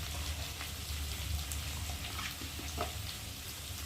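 Tomato, chilli powder, turmeric and salt masala frying in a pan, a steady soft sizzle running throughout at close range with no voices.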